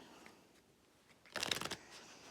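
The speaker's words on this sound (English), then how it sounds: "you can shuffle up the cards" A quick riffle of playing cards being shuffled, a short crisp flutter lasting under a second in an otherwise quiet room.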